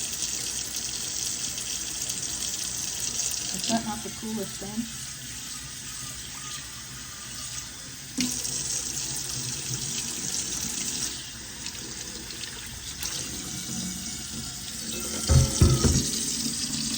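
Tap water runs steadily into a sink through a mesh strainer in a kitchen, a continuous splashing hiss broken by brief clinks and handling noises, with a short remark spoken over it.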